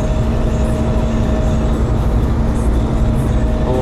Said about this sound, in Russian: вот, в основном звук идет от рычагов раздатки